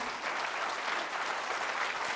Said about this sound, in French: on applaudit Wissem quand même